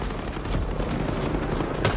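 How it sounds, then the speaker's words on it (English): Rapid bursts of automatic gunfire from drones in the video game Ghost Recon Breakpoint crackle at a moderate distance, a short continuous volley with a sharper crack near the end. "Oh, look, the drones are firing."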